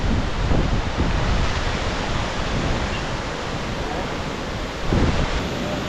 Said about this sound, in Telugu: కొంచెం వాటర్ ఫ్లో ఎక్కువైపోయింది